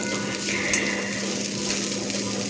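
Rice with salt and turmeric being stirred in a hot pan, a steady sizzle running throughout with soft scraping of the spoon, close and continuous with no voices.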